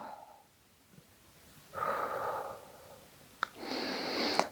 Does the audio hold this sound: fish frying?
no